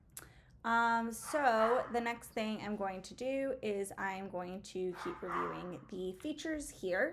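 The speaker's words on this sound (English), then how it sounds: "Also, excuse my dog if you can hear him barking up a storm." A pet dog barks and yips repeatedly in a home office, the barks close and lively and mixed in with someone talking steadily over them.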